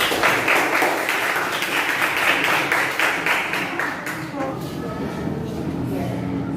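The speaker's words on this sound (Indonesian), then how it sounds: "tepuk tangan dulu" Classroom audience clapping for a student group about to present, a dense run of many hands close by that thins toward the end, with a voice or two mixed in.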